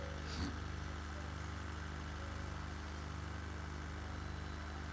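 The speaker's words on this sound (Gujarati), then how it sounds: "આ ટ્રેક્ટર છે ગામનું, જે પંચાયતનું જ છે." A village panchayat tractor's engine runs steadily nearby, a low throbbing drone with a faint rhythmic pulse and no speech.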